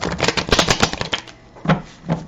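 Tarot cards shuffled by hand in a quick burst of crisp riffling flutters, then a few softer taps and slides as the deck settles, close and fairly loud.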